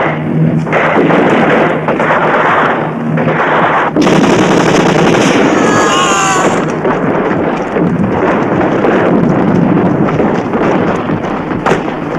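Rapid machine-gun bursts and gunshots rattle loudly and continuously in an action film scene, dense and close, with a sharp metallic ringing midway.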